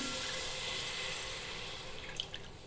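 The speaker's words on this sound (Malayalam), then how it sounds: "ഇതിലോട്ട് ഞാൻ 250 ഗ്രാം ശർക്കര പാനിയാക്കി അരിച്ചു വെച്ചിട്ടുണ്ട്. അത് ഇതിലോട്ട് ഒഴിച്ചു കൊടുക്കാം." Strained jaggery syrup for rava payasam pours steadily into a pan, a continuous close liquid rush that grows slightly choppier near the end, with no talking.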